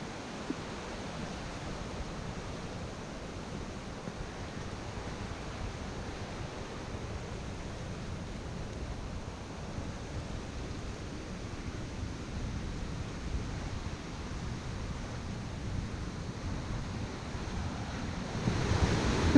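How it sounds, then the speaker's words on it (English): Water pours steadily over a small river weir near Gibson Mill, a continuous broadband rush that stays constant throughout with a slight swell at the end and no voices. "Nice little weir."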